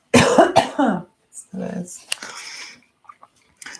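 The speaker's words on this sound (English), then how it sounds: "sorry for the coughing there" A person coughs and clears their throat several times in short, scratchy bursts, with brief pauses and small clicks between them.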